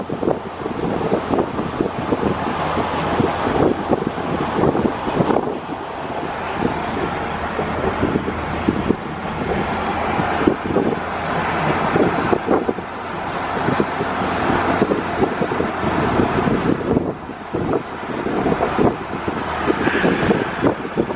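A 1966 Cadillac Eldorado convertible driving over bumpy San Diego roads: steady engine and road rumble with heavy wind buffeting across the microphone, continuous and fairly loud, with no voices.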